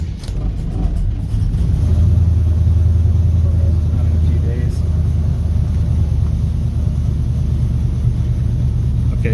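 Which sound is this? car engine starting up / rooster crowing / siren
car engine starting up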